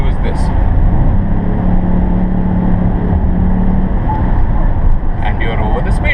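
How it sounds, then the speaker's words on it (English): A 2016 Ford Edge Sport accelerating at full throttle, with a steady, loud engine drone and road roar rising slightly in pitch, heard from inside the cabin. "you can actually just floor the accelerator and feel that good old neck snapping feelings"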